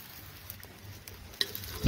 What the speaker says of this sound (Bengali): এবার ঘিতে আমি ভেজে নিচ্ছি ভালো করে।